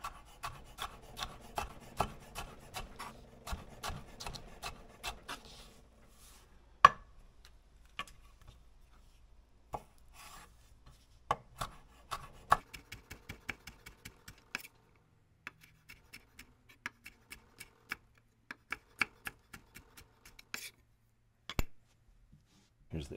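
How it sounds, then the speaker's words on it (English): A knife chops peppers small on a cutting board for Halloween fajitas, heard as rapid close, crisp taps in quick runs, then slower scattered single cuts, faint overall with no talking. "Cut them nice and small, just like so."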